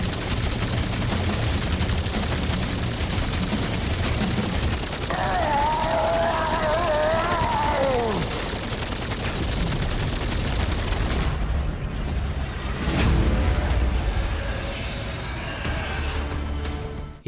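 Rapid gunfire keeps up as players shoot down the Mephistopheles boss in Infinite Warfare Zombies, mixed with game effects, a rising tonal sweep partway through and a heavy burst near the end.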